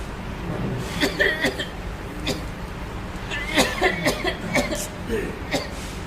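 Several people cough in bursts, short harsh coughs scattered across the clip, some close together in clusters, with faint chuckling and murmured voices in the background.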